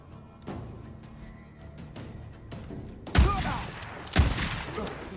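Gunfire in the video game Borderlands: two loud, sharp shots with booming tails stand out clearly above a busy low game background, preceded by fainter distant pops.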